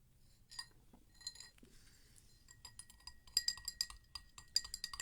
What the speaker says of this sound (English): Gotta take a drink real quick.